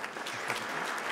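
A brief burst of audience applause for an author at a book-prize presentation, many hands clapping steadily at moderate loudness with no speech over it.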